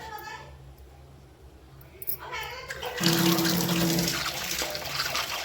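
Lentils (dal) are washed in water: a quiet stretch with a voice talking gives way to loud running and splashing water that keeps going to the end.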